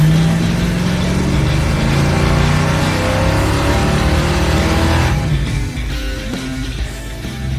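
A 1964 Chevy Nova engine with a slight exhaust leak revs hard and steadily, loud and close with a rough, raspy exhaust note before easing down toward the end.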